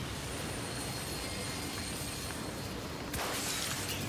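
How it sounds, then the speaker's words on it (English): A train in the video game Battlefield 3 gives off a steady, dense rumble of rolling rail noise, with a sharper clattering surge near the end and no talking. "Like right now, I am climbing up a train."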